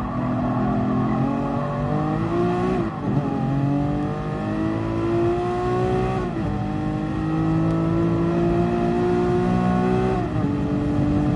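Lamborghini race car engine in the racing video game Gran Turismo Sport, a loud continuous engine note climbing and dropping through repeated gear changes and revs, near and steady throughout with no talk.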